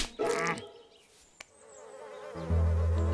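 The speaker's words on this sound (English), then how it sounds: "It's just a fly buzzing around?" A cartoon housefly in a countryside scene buzzes loudly around, its whiny drone rising and falling across a few seconds alongside brief other cartoon sound effects.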